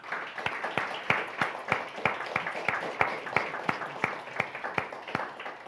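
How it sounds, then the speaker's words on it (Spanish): Small church congregation of about nine to ten people clapping in appreciation, a thin, moderately quiet applause with distinct individual claps in a fairly even rhythm, no talk over it. "Y vamos a dar un aplauso a ellos."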